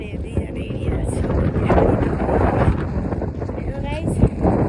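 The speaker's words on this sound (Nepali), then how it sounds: "गाइस हावा चाहिँ ओभरै चल्छ यहाँ डाँडामा।" Strong wind buffeting a microphone on a hilltop ridge, a loud continuous roaring rush with gusty swells, heavy and close throughout.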